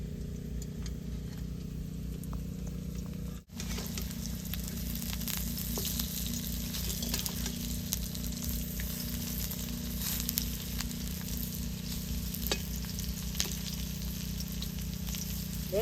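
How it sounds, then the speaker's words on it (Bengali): Raw jackfruit fritters with onion fry in a little oil in a kadai, giving a steady close sizzle with a low hum underneath and one brief dropout, no talk. "অল্প তেল দিয়ে যদি বড়া খান তাহলে আমাদের এরকম কড়াইটা ঘুরে ঘুরে দিয়ে বড়া ভাজলে"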